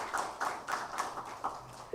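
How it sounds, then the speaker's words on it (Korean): A church congregation claps for the choir after Sunday worship: a fairly faint, steady patter of hand claps in an even rhythm, with no talking. "다시 한번 감사의 박수하겠습니다"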